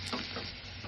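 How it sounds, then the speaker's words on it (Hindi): Tempering spices sizzle and crackle in hot oil, a brief, steady hiss with small pops. "तड़का लगेगा"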